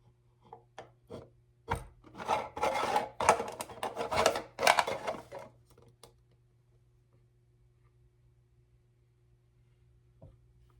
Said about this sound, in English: So I push the knife all the way through, so that gives me access to start.